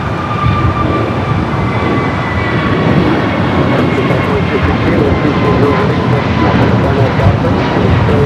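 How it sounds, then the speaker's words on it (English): An Airbus A321 jet rolls down the runway for takeoff, its engines giving a loud, sustained roar with a thin whine above it, under faint talk. "We do have a A321 rolling down at 25 right"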